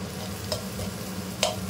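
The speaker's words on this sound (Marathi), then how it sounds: "आणि याला व्यवस्थित फ्राय करून घ्यायची या कांद्यामध्ये" Takla greens frying with onion in a pan with turmeric, a steady soft sizzle under a few light scrapes of stirring, close by with no talking.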